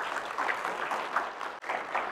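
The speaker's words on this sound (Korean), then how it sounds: "큰 박수로 맞이해 주시겠습니다" An audience at a Korean home-care medical centre results-sharing event gives steady applause to welcome a pharmacist presenter, a dense even clapping that dips briefly near the end, with no talk.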